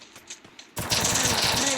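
A rapid burst of automatic gunfire in the video game Free Fire starts abruptly after a quiet moment and continues as a fast, even run of loud shots.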